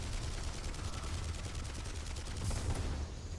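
Rapid turret gunfire from a video game, a steady stream of shots running at an even rhythm for the whole stretch and swelling slightly near the end, with no voices over it.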